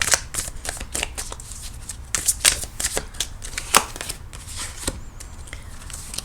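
Tarot cards being shuffled by hand, a steady run of crisp riffling flicks and soft card slaps, close and fairly quiet, with no talking.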